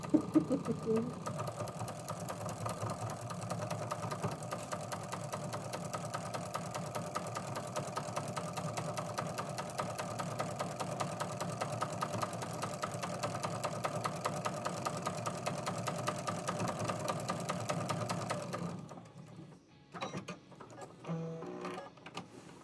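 A sewing machine runs steadily for about eighteen seconds with a fast even mechanical whir and ticking, close and moderately loud, then stops, leaving a few quiet handling clicks and knocks.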